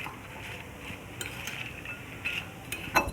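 A spoon stirs sliced potato batter with chilli in a bowl, making soft scraping and light clinking against the dish; it is quiet and steady, with a few sharper clinks near the end and no voices.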